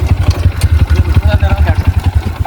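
A motorcycle engine idles at a riverbank with a steady low, pulsing throb, close and fairly loud throughout, as people talk faintly in the background.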